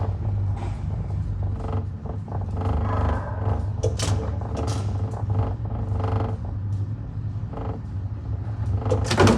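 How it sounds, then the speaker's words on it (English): Old Vilovi elevator doors in a building in Barcelona, opening with loud, drawn-out mechanical creaks and clanks, close and irregular over several seconds. "that's kind of loud to open those doors"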